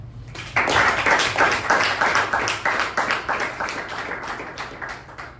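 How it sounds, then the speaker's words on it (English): A crowd at a Toastmasters meeting bursts into applause for a speaker, a dense, steady wash of many hands clapping close by that holds for several seconds, then slowly fades. "With a huge round of applause, please welcome our Vice President Membership, Toastmaster Sharanye Prasad."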